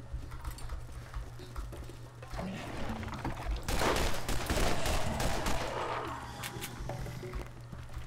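Shotgun fire in the Borderlands video game, a run of loud booming blasts that merge into a dense burst of shooting and debris mid-clip over a steady low game hum.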